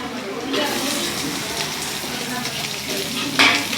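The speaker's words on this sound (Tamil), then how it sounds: "அதையும் எண்ணெயிலே போட்டு நல்லா செவத்தரை வந்து வணக்கிக்கணுங்க" Garlic and small shallots fry in oil for a fish curry, giving a continuous close sizzle with stirring scrapes and a brief louder clatter near the end.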